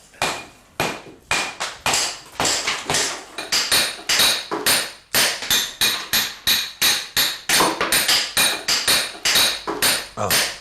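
Rapid, steady hammer blows ring out during a townhouse renovation, dozens of sharp close strikes in quick irregular runs with brief pauses, loud and alone without talk.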